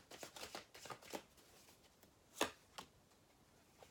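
Chuck Spezzano love oracle cards shuffled by hand, a quick run of soft riffling flicks followed by a few sharper isolated snaps after a pause, close and quiet.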